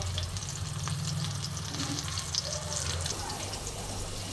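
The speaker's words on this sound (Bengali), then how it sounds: "আমার বেগুনটা সুন্দর করে ভাজা হয়ে গেছে।" Eggplant fries in hot oil with a steady, close sizzle and crackle, while a low voice speaks over it.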